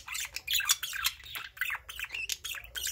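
Budgies in a cage chirping: a quick, busy stream of bright squawks and tweets at close range, irregular and overlapping, fairly soft overall with brief pauses between bursts.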